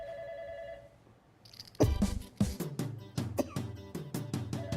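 A telephone rings with repeated tones in a live radio studio, followed by loud rhythmic clicks and thumps as the phone is picked up and handled.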